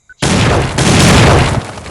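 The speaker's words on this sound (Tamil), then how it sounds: "வெடிய போட்டுருக்காங்க" A firecracker goes off in a fireworks simulator video game: a sudden loud, crackling burst that roars steadily for over a second before fading, with no talking over it.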